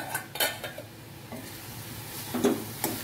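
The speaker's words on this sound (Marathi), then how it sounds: "आता अजून एकदा हलवून घ्यायचं।" Carrot halwa is stirred in a pan, a spoon scraping and clinking against the metal in a few separate strokes over a soft sizzle, close and fairly quiet.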